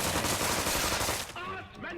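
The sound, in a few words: gunfire from the video game South Park: The Stick of Truth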